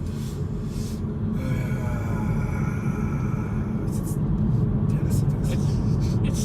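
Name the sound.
Hyundai Kona car accelerating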